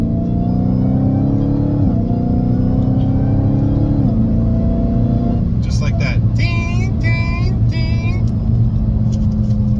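A Dodge Challenger Hellcat Redeye Widebody accelerating hard, its deep engine drone climbing steadily in pitch with quick gear shifts breaking the rise, loud and close throughout.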